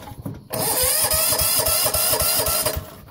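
A 1970 Sears Suburban garden tractor engine is cranked and catches, giving a loud, close, rapid chugging rattle. It runs unevenly for a couple of seconds, then sputters out.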